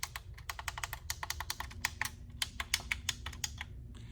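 Buttons clicking on an inexpensive Aigoss Bluetooth car stereo, a rapid series of small plastic clicks and taps close up, irregular and fairly quiet over a low background hum.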